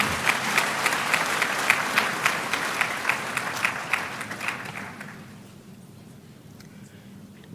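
Applause rolls through a graduation ceremony audience, loud and dense with sharp individual claps, then thins out and fades to quiet room tone over the last couple of seconds.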